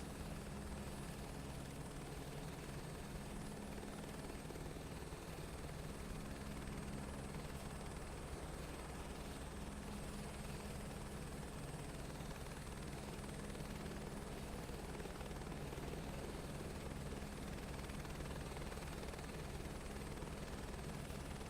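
A video game helicopter's steady rotor drone hums continuously at moderate distance, unchanging throughout with no voices.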